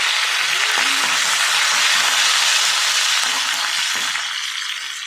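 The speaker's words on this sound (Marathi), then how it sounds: "एक चमचा जिरे अद्रक लसणाचे पेस्ट कढीपत्ता चांगलं परतून घ्यायचं" Cumin, ginger-garlic paste and curry leaves sizzle steadily in hot oil in a kadhai, a loud continuous frying hiss with faint stirring taps underneath, easing slightly toward the end.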